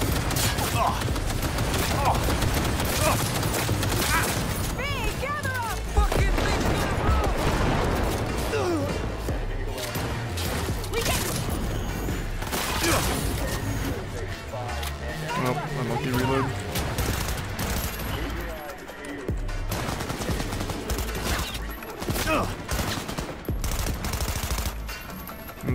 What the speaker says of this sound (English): Big gun coming